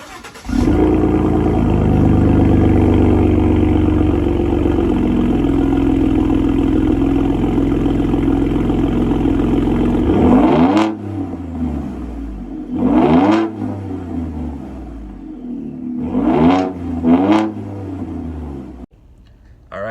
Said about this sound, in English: the Borla Attack system. It's very, very loud, but it has a nice deep growl